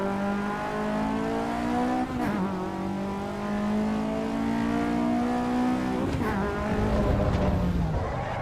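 A light, rear-wheel-drive race car without ABS in a racing simulator, its engine revving in rising and falling sweeps with short tire squeals as the rear steps out, loud and continuous without speech.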